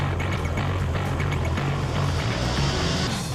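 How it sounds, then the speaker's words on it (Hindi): Apache attack helicopter of the Indian Air Force, a continuous loud rotor and engine roar with a throbbing low hum, close and steady throughout. "Number 8, Apache helicopter."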